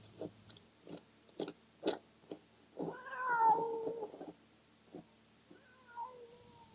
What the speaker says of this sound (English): The cat was crying and sniffing at the door, hoping the woman would open it and let it in.